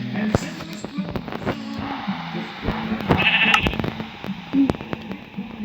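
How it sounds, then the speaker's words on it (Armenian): Sheep bleating inside a survival video game, several short bleats scattered over a busy mix of game sounds and brief popping noises. "Ոչխարներ։"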